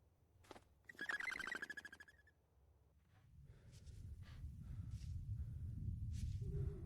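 A small rescued bird in Silent Hill: Downpour gives a few sharp, close chirping calls early on, then fades into a low ambient rumble that builds toward the end.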